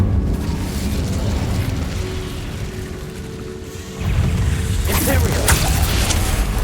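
Incendio fire spell from Hogwarts Legacy, a loud rushing, roaring burst of flame with whooshes and crackling pops that swells after a steady combat rumble. Voices are faintly present.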